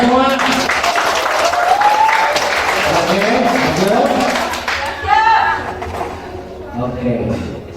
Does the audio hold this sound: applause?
yes